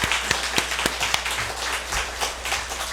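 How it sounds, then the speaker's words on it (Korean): Church congregation clapping during a Sunday service, a modest group of claps with a few sharp distinct hits standing out, moderately quiet over a low steady hum. "박수하겠습니다."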